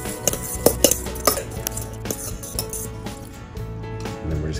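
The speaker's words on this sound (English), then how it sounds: "Mix together your topping." A utensil clinks and taps against a bowl while fish topping is mixed, with irregular bright metallic knocks, loudest early and then settling into softer scraping taps, close by.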